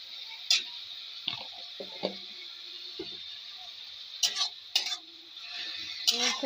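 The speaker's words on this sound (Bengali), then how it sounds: "ফের একবার নেড়ে চেড়ে নেবো।" A spatula stirs chicken with ginger and garlic paste in a hot pan, making scattered scrapes and clinks over a thin, steady sizzle.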